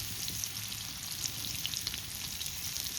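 Chicken sizzles steadily in oil on a clay roof tile, a dense, even crackle close by that holds at the same loudness throughout with no voices.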